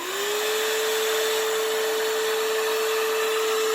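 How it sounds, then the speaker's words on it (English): AFBEST handheld vacuum cleaner switches on and spins up within a split second to a steady, high, whining motor hum with airy rushing noise, running continuously up close. "it's got a bit of noise, but again, when it comes into vacuums, this is a good thing"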